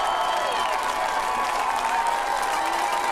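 Greyhound football fans cheer and applaud steadily at a homecoming high school game against the East Central Hornets, a loud, dense wash of clapping and crowd noise that holds throughout.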